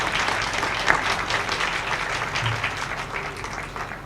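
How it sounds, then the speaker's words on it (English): Steady applause from an audience at an evening Purple Light Nights lighting ceremony for domestic violence awareness, dense even clapping that holds throughout and fades slightly at the end. "I want to give our state's attorney a round of applause"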